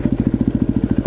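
A KTM 625 SMC motorcycle rolls slowly, partly over grass, its engine thumping in a quick, steady pulse, close and fairly loud throughout.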